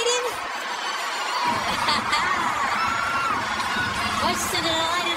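An NBA preseason basketball arena crowd roars after a dunk, a loud swell of cheering, whoops and shouts that rises suddenly and stays strong, with a commentator talking over it.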